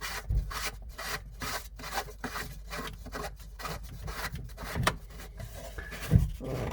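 A screwdriver tightens screws into the flange of a pop-up power socket, making faint, repeated rasping rubs in short strokes with a couple of small knocks.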